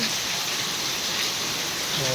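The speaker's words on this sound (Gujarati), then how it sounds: "ફૂલ વરસાદ ચાલુ છે" Heavy rain pours steadily at night around 11:30, accompanied by wind, with a dense continuous hiss of rainfall close by and no break across the short stretch.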